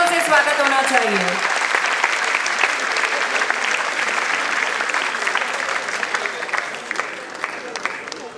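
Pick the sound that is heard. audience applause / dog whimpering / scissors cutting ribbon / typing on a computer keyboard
audience applause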